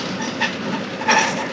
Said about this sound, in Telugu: కానీ ఇప్పుడు గూడ్స్ ట్రైన్ వెళ్తుంది పక్కన.